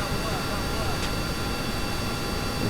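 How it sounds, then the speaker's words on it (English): A rocket engine roars in the space game Kerbal Space Program, a close, heavy, unbroken rumble filling the whole moment. "I could just barely hear that under the sound of this friggin' engine"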